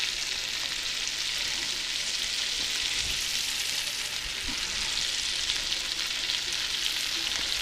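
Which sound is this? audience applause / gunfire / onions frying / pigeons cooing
onions frying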